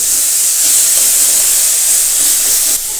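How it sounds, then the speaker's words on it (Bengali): Onion, garlic and ginger paste fries in hot oil while being stirred, producing a loud, steady, close hiss that drops a little in level toward the end. "এবার আমি এখানে পেঁয়াজ রসুন পেস্ট আর আদা পেস্টটা দিয়ে দেবো, দিয়ে আবার নাড়াচাড়া করে নেবো"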